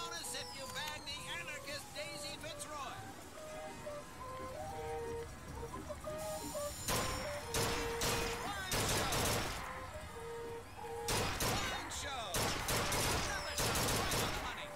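Rapid volleys of gunfire ring out at a carnival shooting gallery in BioShock Infinite, coming in two loud clusters of sharp shots after a stretch of tinkling game tones, with a voice talking.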